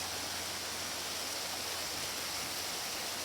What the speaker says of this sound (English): And then here you have the waterfall.